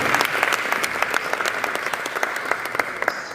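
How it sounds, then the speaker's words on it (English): An audience at a screen industry summit in Durban claps, a dense patter of many hands in sharp repeated bursts, fairly loud and close, lasting a few seconds. "So a round of applause for you to actually be here."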